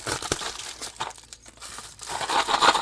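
Crinkly plastic packaging being pulled open, bursts of crackling and rustling with a short tearing sound, close by and no one speaking.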